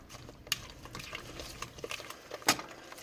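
Brown sugar is stirred into an apple bread mixture by hand, giving faint, irregular scraping and soft clicking of a utensil against the bowl, with a couple of sharper knocks.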